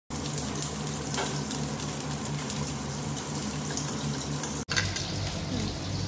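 Whole cumin, dried chillies and bay leaves sizzling in oil left over from frying fish, a steady close crackle with a brief break near the end.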